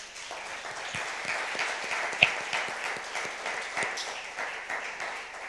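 A church congregation at a Spanish-language sermon breaks into sustained applause, a dense wash of many hands clapping at steady strength with a few sharper individual claps standing out, close and continuous for several seconds.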